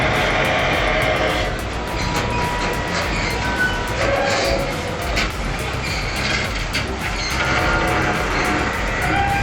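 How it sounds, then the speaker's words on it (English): Crawler track of a giant brown coal spreader being relocated between two mines in Germany, producing a continuous loud mechanical rumble and grinding clatter with steady metallic squeals running throughout. "this shaky video shows the crawler track of a giant brown coal spreader"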